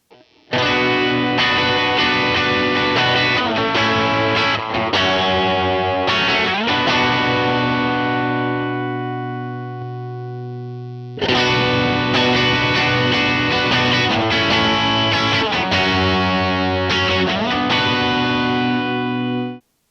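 Distorted electric guitar through a Portafilter Dual Overdrive pedal with the mids cut, ringing chords in two long phrases with a short break between, loud and close with no talking.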